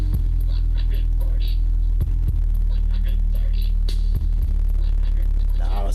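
A steady low-frequency test tone plays through a homemade Sony speaker box tuned near its port frequency, a loud constant bass hum with faint throbbing, sustained alone for the whole stretch.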